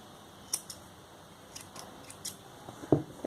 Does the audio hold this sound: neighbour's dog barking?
no